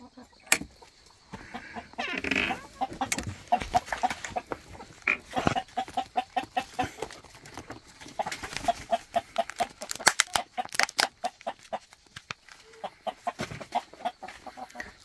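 Araucana and native Korean chickens cluck and murmur repeatedly in a rural setting, a steady run of close, overlapping calls from several birds with sharper squawks here and there, no human voices.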